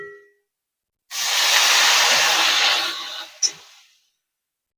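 Half a cup of water hits a hot pan of fried bitter gourd and potatoes, bursting into a loud, close steam hiss that holds for about two seconds before fading, followed by a brief clank.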